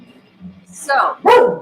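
A dog barks twice in short, close, loud bursts indoors, following a spoken word at the start.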